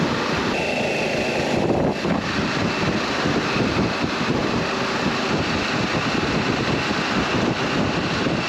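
Strong wind blusters across the microphone at the roadside of a hilltop motorway, a loud continuous rumbling roar with no speech.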